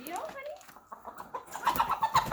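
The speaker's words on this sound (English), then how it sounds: "We just had a chicken jump up in the middle of our video." A chicken clucking in a brooder, a string of close, sharp clucks that grows louder toward the end, with a person talking nearby.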